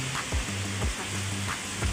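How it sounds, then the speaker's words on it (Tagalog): Heavy rain falls in steady broadband hiss close by, with soft low thumps and a faint hum underneath, continuous and fairly quiet, with no voices. "grabe yung ulan no?"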